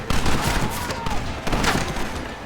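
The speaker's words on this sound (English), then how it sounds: "You man the Gatling gun" Rapid gunfire from a Gatling gun in the video game Red Dead Redemption, a dense, continuous crackle of shots sustained through the whole stretch alongside other battle noise.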